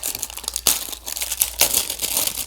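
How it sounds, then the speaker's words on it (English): Crinkly packaging being torn open from around a set of carbon car exhaust tips for a BMW F80 M3, loud close rustling and crumpling in sharp bursts with no talking. "Unwrap these bad boys."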